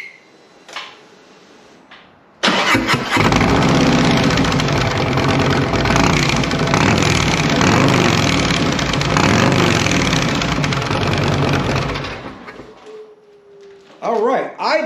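Harley-Davidson bagger motorcycle fitted with Tab Performance Z-Rings starts up and settles into a loud, lumpy idle that runs for about ten seconds before shutting off, with someone talking briefly before and after.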